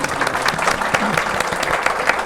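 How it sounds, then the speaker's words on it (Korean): Audience applause at a Korean startup investment panel session, with steady dense clapping from a seated crowd and a few voices faint underneath, continuous for the whole short stretch. "박수 한번"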